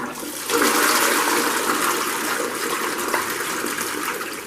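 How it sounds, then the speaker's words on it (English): A household toilet flushes loudly and close by after descaling of the bowl, a sudden rushing gush of water that keeps draining steadily to the end with no talking. "So I'm just going to give that a flush now."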